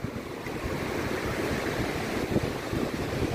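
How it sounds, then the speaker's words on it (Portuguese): Ocean surf at Praia Gravatá in Navegantes, Santa Catarina, rolls and washes in a continuous broadband roar, with wind buffeting the microphone throughout and no talking. "surfando lá, porque as ondas tão grandes"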